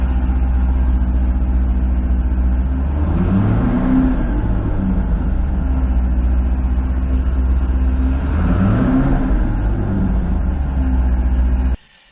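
A 2005 Chevy Corvette engine under fuel system repair rumbles steadily up close, revved twice to around 3,000 RPM with a rising then falling roar each time before cutting off at the end.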